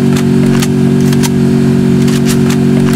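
Car engine in the video game Free Fire, a loud, steady droning hum with a constant mid-low tone, crossed by a few brief crackling bursts.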